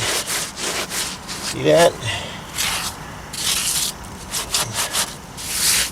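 Float or trowel rubbing over fresh mortar on a foundation repair to smooth out humps, a repeated scraping, sanding-like stroke close by, with brief talk in between.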